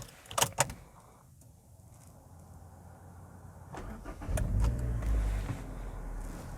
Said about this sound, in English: let's give it a start, shall we?